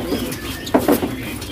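A male kinoi songbird gives two short, close calls in quick succession partway through, over a low background hum, with no voices present.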